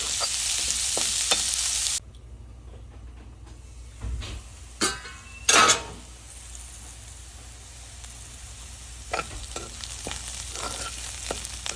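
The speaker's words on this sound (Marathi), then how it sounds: "आता बघा आपला कांदा छान तळून झालेला आहे।" Onion frying in a pan sizzles loudly at first, then drops sharply to a faint hiss. A couple of clattering bursts follow, and light scrapes and soft crackle continue near the end.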